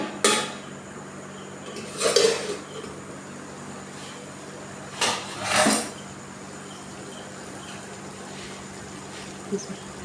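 Metal lid lifted off and set back on a pot of chicken steaming in a home kitchen, a few distinct clanks and scrapes separated by quiet pauses, with low background hum.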